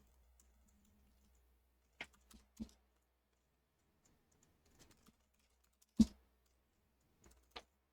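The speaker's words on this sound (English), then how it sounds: "I'll type them out in the channel so you can see it" A computer keyboard tapped in a few sparse, separate keystrokes, crisp and close against near silence, with no speech.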